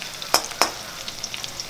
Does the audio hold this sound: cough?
no